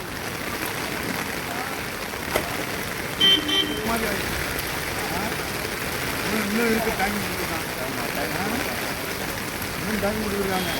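Steady rain patters on surfaces outdoors, a constant hiss with faint voices murmuring in the background and a brief car horn.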